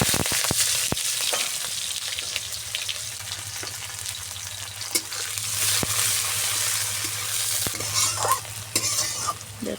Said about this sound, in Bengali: আলু ভাজার তেলে আরেকটু তেল দিয়ে দেব। দিয়ে দেব পেঁয়াজ কুচি।